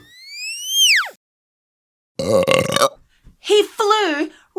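A long, loud cartoon burp from a bee character at a party, a single rising-and-falling belch lasting about a second, followed after a pause by excited voices and laughter.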